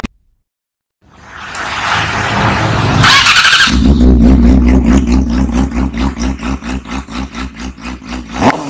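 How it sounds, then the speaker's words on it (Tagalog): Night-time traffic in Padang heard from a Bajaj Dominar 400 motorcycle, with a steady engine drone swelling as it revs, then a rhythmic pulsing engine note close by, no talking. "Padang traffic."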